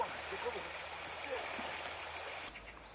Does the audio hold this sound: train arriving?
no